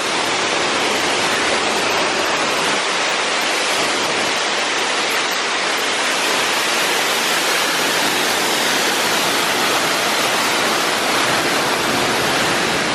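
A waterfall at Epcot, Disney World, Florida pours in a steady, loud, broadband rush that fills the whole stretch without a break, with no voices over it.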